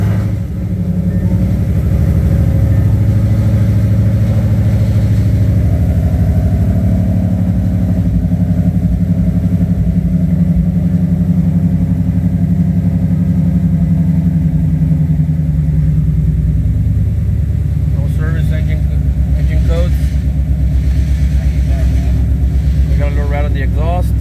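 A 5.0L Ford Mustang V8 fitted with a PMAS intake and Lund Racing tune rumbles at a steady idle, close and loud, with slight pitch wavering. Light clicks and knocks come in near the end.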